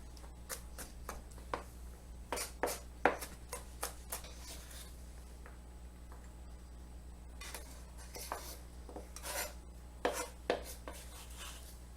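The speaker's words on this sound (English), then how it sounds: "And I'm just mincing it with the knife." Knife mincing stuffing on a cutting board, with irregular bursts of close, crisp chops spread across the clip over a steady low hum and no talking.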